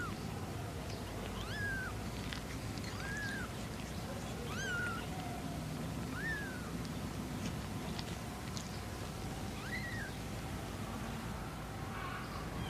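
Young kittens give a series of thin, rising meows at a steady pace, about one every second or two, each clear but fairly soft against a constant hissy background.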